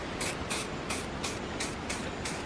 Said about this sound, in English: You want to step back just so that the mist hits it really good when you're spray painting.